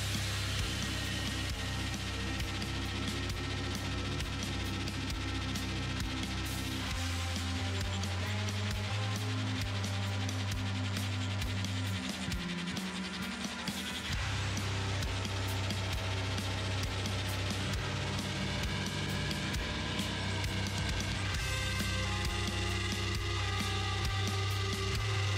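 Continuous layered music from the Alter Ego video game soundtrack, with sustained tones and a steady low bass, shifting sections, playing alone without talk throughout.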